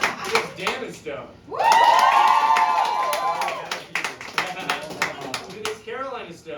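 A live comedy game-show crowd in Boston breaks into a loud, sustained cheer of overlapping shouting voices with some clapping, framed by a host speaking before and after.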